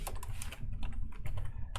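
Rapid, irregular clicking of computer keyboard keys, close and fairly quiet, with a steady low hum underneath and no talking.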